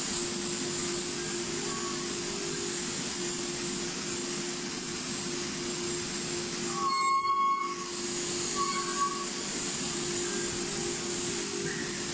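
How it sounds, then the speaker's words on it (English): Milling machine cutting a poorly clamped part, its vibration chatter a steady loud hiss and rattle carried by a low tonal hum, briefly interrupted mid-way, with no talking. "do you hear the vibration sound? That is because the clamping is not nice."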